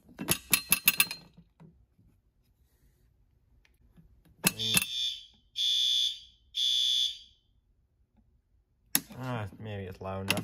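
School fire alarm horns from 1958 sound during an alarm test, giving two loud, steady tonal blasts of about a second each between bursts of clattering noise, with near voices talking at the start and end.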